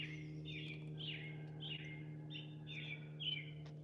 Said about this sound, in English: I swear the bird got louder